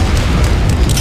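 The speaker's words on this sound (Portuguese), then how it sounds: "Vamos atirar essas granadas aqui." A grenade explosion in the Resident Evil 4 video game, a loud, dense low boom filling the whole brief moment with no voices.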